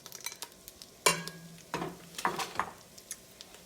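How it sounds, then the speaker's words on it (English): Water flicked into hot oil or butter in a cooking pan sizzles in a few short, crackling bursts, close and moderately loud, with faint pan clinks between them and no talking. "when I flick a little water in it, they start to bubble"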